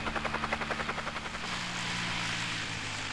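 Helicopter flying away at the finale of the video game Resident Evil: rapid rhythmic rotor thumping for about a second and a half, then a loud steady whooshing rush as it departs, with no voices.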